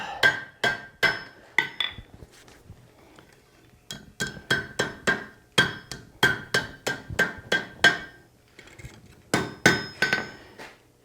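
A blacksmith forges a hot steel meat hook on an anvil, sharp ringing hammer blows in quick bursts of about four or five strikes, separated by short pauses, close and loud.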